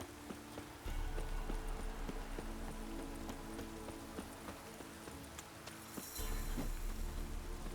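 Horse galloping in The Witcher 3 video game, rapid steady hoofbeats thudding throughout at moderate level under layered game ambience, with no talk.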